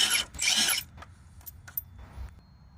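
A 13mm bolt being undone on a Peugeot, Citroën or Ford, with a bright hiss of tool movement, then several short metallic clicks and creaks, close and fairly quiet, no talking.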